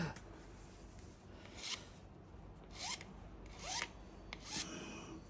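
A hand file rasps against the rakers of a chainsaw chain, several short scraping strokes at irregular intervals, close and fairly quiet over a low background hum.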